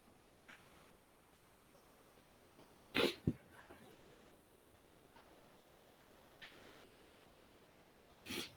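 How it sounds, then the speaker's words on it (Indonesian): A few brief bursts of sneezing from someone teaching an online lesson, with one sharp double burst standing out, then a smaller sound and another short burst near the end, over a quiet room background. "Ternyata saya agak bersin-bersin."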